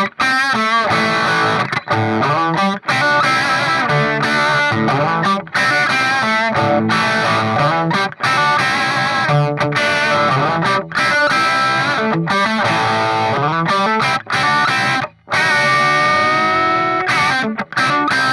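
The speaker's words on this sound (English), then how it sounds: "so this is the BUGERA 1960, and again, it's got some really cool beefy tones." A Gibson Les Paul electric guitar played through a Bugera 1960 tube amplifier gives thick, distorted riffs and sustained chords, loud and continuous with short pauses between phrases.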